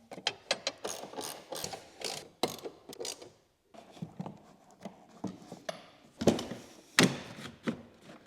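Ratchet clicking as a strut brace is tightened on a BMW E60 M5: bursts of sharp, close mechanical clicks in an uneven rhythm, with a short pause midway before the ratcheting resumes.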